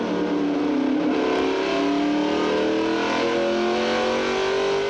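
NASCAR Winston Cup stock cars roar around Richmond International Raceway in 1996, a loud sustained engine drone with rising pitch as the cars accelerate, constant throughout with no voices.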